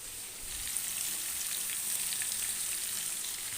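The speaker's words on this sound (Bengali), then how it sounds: "মশলাটা দিয়ে এবার ভালো মতন কষাবো একদম হাই ফ্লেমে করে দিয়েছি" Masala spices frying hard over a high flame with vegetables for a rohu fish curry, a steady dense sizzle that holds close and loud throughout with no talking.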